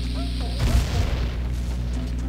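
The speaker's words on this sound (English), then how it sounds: "So if I blow these up with bombs," A single deep bomb blast bursts against a wall in The Legend of Zelda: Ocarina of Time, a loud low boom that rumbles briefly over a steady tonal game soundtrack.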